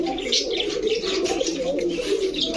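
A Lal Patti pigeon cock, a breeding male, coos close by in continuous rolling phrases, with light chirps above the low murmur.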